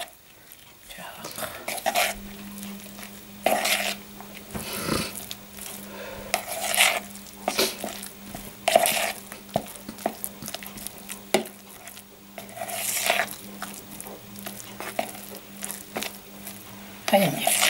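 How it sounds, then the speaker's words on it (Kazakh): Grated cheese being stirred into a mixture in a large bowl for a lavash pie, with scraping and squishing strokes in irregular bursts and clinks of a utensil against the bowl, close by, with speech at times over it. "Оған енді мына ірімшікті араластыру керек."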